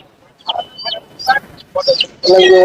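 Several short, loud clucks from country chickens close by at a poultry market, coming in quick irregular bursts and ending in a louder squawk.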